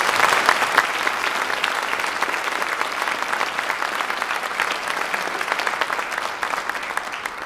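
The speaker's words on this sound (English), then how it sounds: "Can we give them a big round of applause?" Steady applause from an audience at a school All-State music concert, dense and continuous clapping throughout with no talking over it.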